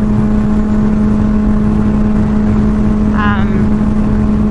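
A Suzuki GSX-R motorcycle engine runs at a steady, loud, close drone with a strong constant hum and no clear rise or fall, riding beneath wind rush.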